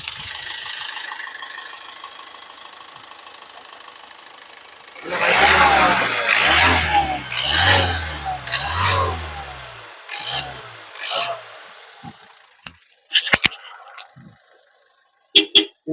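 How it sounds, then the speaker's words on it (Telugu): A Ford EcoSport Titanium Signature with sunroof idles quietly, then its engine revs in several loud, rhythmic bursts close by before dropping back, ending in a few sharp knocks. "ఇంజన్ చూసుకున్నట్లయితే చాలా అంటే చాలా స్మూత్ గా అయితే ఉంది."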